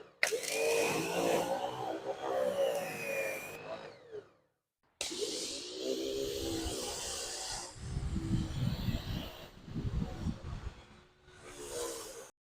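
A pressure washer fitted with a green tip sprays air and water through its hose, producing a loud, steady hiss that stops for a moment and then resumes with sputtering bursts as the air clears.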